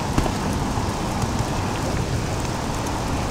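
Steady rain pours in a video game, a dense, even hiss of drops on surfaces with no talking and no breaks.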